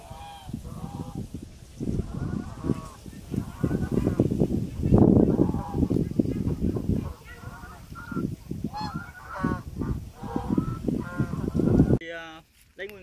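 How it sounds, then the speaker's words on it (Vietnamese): Geese in a rice field in Vietnam's Mekong Delta honk repeatedly and loudly close by, a busy overlapping chorus with someone talking among the calls. "Ở đây thì có thêm mấy con ngỗng nè bạn."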